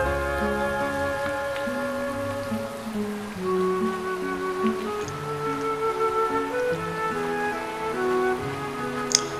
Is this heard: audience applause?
no